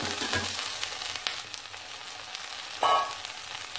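Onions, chilies and garlic frying in a pan for sambar, a steady close sizzle with small stirring bursts and a brief louder flare near the end, no voices.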